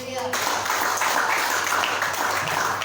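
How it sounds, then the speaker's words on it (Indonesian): Applause from a church congregation at a Christmas gathering, steady clapping with a dense texture heard under a voice speaking. "Tepuk tangan."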